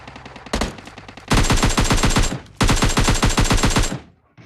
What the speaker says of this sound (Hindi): तभी मेरे को सामने से फायरिंग की आवाज़ आती है